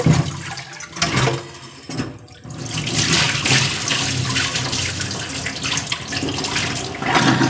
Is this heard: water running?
yes